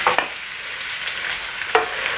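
Zucchini sizzles steadily in a hot pan, a loud, close hiss with occasional scraping from stirring and no talking.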